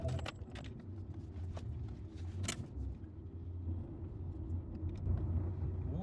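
BMW E82 car driving on the road after suspension bush fitting, a steady low engine and road rumble from inside the cabin with occasional faint clicks and knocks, no talk.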